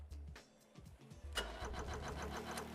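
Boat engine in the game Stormworks cranking with a few uneven turns, then catching and settling into a steady, close mid-pitched running hum.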